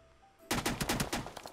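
Rapid gunfire in the PUBG battle royale video game, a loud burst of about eight sharp cracking shots in quick succession after a quiet moment.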